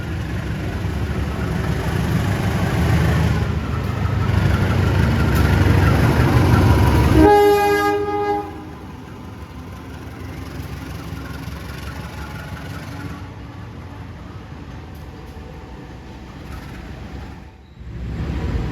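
A Majapahit new-generation economy train, built by Inka in 2024, stands at the station. A loud rumbling engine runs for several seconds, then a brief tonal blast, then a quieter, steady idling hum.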